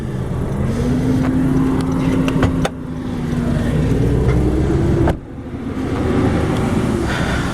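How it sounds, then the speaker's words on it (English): Idling four-cylinder engines of a 1997 and a 2017 Honda Accord with manual transmissions, running under open hoods: a steady, close mechanical hum with a faint whine, broken by two sharp clicks or knocks. "As you can hear on the right side on the 2017, this engine is a little bit noisier"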